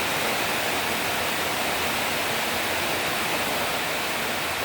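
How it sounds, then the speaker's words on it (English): Heavy rain pours steadily in rural Thailand during the rainy season, a dense, constant hiss with no breaks, like water streaming off a roof nearby. "We have rain, we have deep water."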